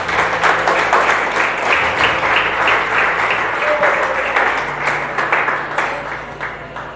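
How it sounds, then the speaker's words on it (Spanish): Church congregation applauding during a Spanish-language service, with steady, dense clapping that fills the whole stretch at close range and stays loud, fading slightly near the end. "Vamos, aplauda a Dios con alegría."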